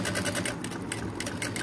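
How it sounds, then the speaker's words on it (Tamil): A sewing machine stitches fabric in a tailoring class, running with a steady, close, rapid mechanical rattle and hum throughout, with no talking. "தையல் போட போறோம் ஓகேவா"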